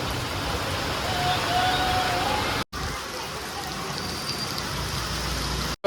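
Steady rain falls, a continuous broad hiss with brief dropouts, fairly loud and close.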